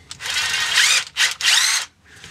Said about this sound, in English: it turns my drill into an angle drill